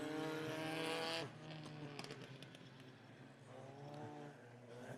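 Hornet-class race car engines on the USA Raceway short track, a loud droning whine that drops and then swells again under throttle changes, with a voice talking over the engines throughout.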